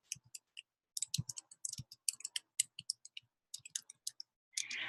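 Fingers type on a computer keyboard in irregular bursts of crisp, close key clicks, pausing briefly between clusters, with a soft rustle at the very end.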